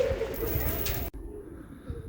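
Pigeons coo at a busy outdoor bird market, soft throaty calls under loud ambient noise that drops away abruptly partway through.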